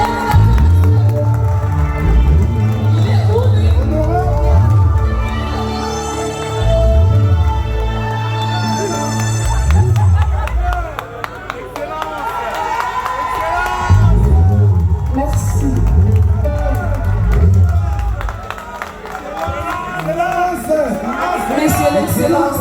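A large concert crowd cheers and whoops loudly over booming music as a performer is introduced, with waves of shouting rising and falling throughout.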